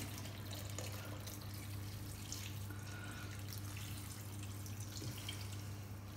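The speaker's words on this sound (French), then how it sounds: "Il ne me reste plus qu'à rajouter mon bouillon de légumes pour la cuisson." Vegetable broth is poured over stuffed cabbages in a baking dish, making a steady, continuous trickling splash of liquid that stays quiet and unbroken, with a low hum underneath.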